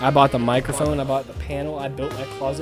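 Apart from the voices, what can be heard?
No everyday noises stand out.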